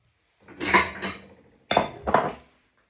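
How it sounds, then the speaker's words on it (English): A dog bowl is taken out of a cupboard, giving two pairs of clattering knocks and rattles like dishware, close and clear with no voices. "This is where Snoop might hear the bowl."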